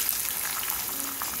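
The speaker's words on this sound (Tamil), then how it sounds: "எண்ணெய் காஞ்சிருச்சு, வெங்காயம் போட்டுக்கலாம்" Onions frying in hot oil in a kadai for a Tamil-style peas, potato and capsicum fry give a steady, close sizzle that holds evenly throughout, with no one speaking.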